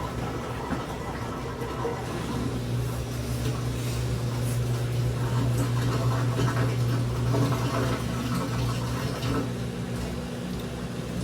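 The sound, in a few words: Samsung Flexwash washer draining water during final spin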